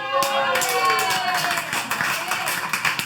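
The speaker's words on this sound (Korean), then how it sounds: "박수." Church congregation clapping during a sermon, a burst of brisk, close claps with voices talking and a high ringing tone over them.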